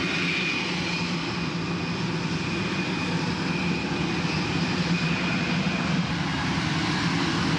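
A Boeing X-32 or Lockheed X-35 experimental jet aircraft engine throttling up to 70% over a hover pit, a loud steady roar with a thin high whine running throughout, with no talking.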